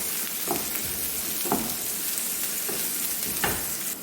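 Onions fry in oil in a pan for a chicken dish, a steady hiss of sizzling broken by soft stirring scrapes about once a second, with no talking.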